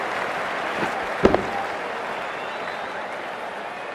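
Cricket crowd at an India versus Pakistan Asia Cup match applauding and cheering after a big hit into the stands, a broad, steady roar of distant spectators with a couple of sharp claps standing out.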